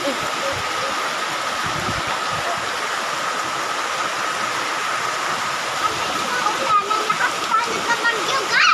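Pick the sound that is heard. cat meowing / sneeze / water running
water running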